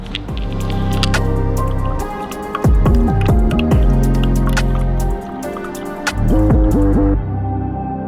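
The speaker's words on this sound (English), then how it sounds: "This is concentrate. We mix it with distilled water." Coolant concentrate mixed with distilled water is poured into the cooling system of a damaged 2019 Audi RS5. It makes a loud, close gurgle and glug with rising bubbling pitches, pausing briefly twice between pours.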